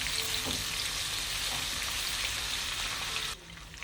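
Julienned green chillies and ginger fry in hot oil with cumin and coriander, giving a steady, dense sizzle close by that runs almost throughout and drops abruptly near the end.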